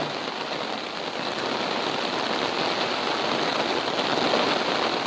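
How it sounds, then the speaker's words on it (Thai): Heavy rain pours down at an outdoor football tournament in Bangkok, a dense, continuous hiss of falling water that holds steady throughout with no voices. "ฝนแรงมากๆแล้วตอนนี้ครับ"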